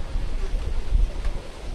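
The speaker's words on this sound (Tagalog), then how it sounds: "Pero mahangin talaga siya. Maalon nga sa labas eh." Strong wind buffets the microphone outdoors near a rough sea on an island in Coron, Palawan, a low rumbling gusty roar with no talk.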